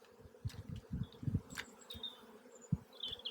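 Honey bees buzz softly up close during a hive inspection, with short droning bursts and a few higher whines from individual insects passing by.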